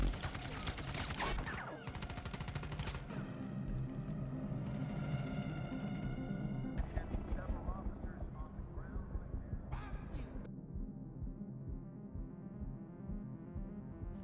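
Bursts of rapid automatic gunfire from an unmanned gun mounted in a car, loud and dense, continuing in rattling volleys with engine-like drone and other action sounds mixed in.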